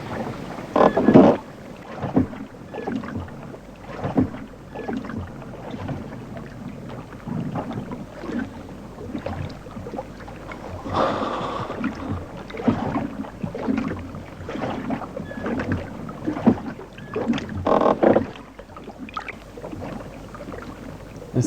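In a scene from Bergman's film Shame (Skammen), a boat struggles through the sea while leaving an island, with a constant rumbling wash of wind and water and irregular louder surges and splashes.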